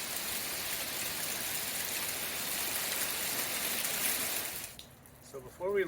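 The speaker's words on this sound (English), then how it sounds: "we're in the middle of a hailstorm out here up in BC, Canada" Hail pelting down steadily during a hailstorm in British Columbia, Canada, a dense broadband hiss like heavy rain on surfaces, close and continuous before dropping away abruptly near the end as faint voices appear.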